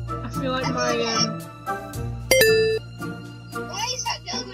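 A bell chimes once in a Roblox obby game, a short bright tonal ring with a brief sustain, set amid children's voices talking over game sounds.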